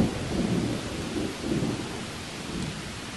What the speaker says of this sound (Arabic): إنه صوت الرعد